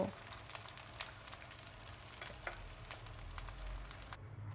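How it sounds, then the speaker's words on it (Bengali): Pieces of rohu fish frying in cooking oil in a pan, giving a soft, even sizzle and crackle that stays faint and continuous throughout, with no talking. "মাছ ভাজা শেষ এবার আমি মাছগুলো তেল থেকে তুলে নিব"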